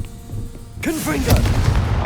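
A Confringo blasting spell cast in the Hogwarts Legacy video game: a loud, bursting boom with a swooping magical whoosh that kicks in suddenly partway through and rumbles on to the end over game background noise.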